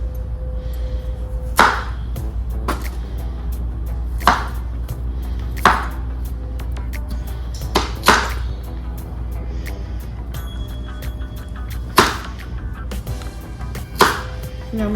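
Knife chopping vegetables on a cutting board for homemade baby food, sparse single sharp thunks spaced a couple of seconds apart over a low steady hum.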